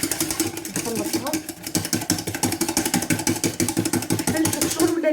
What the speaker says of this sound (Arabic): نخلط مليح هذاك السكر مع الصفر تاع البيض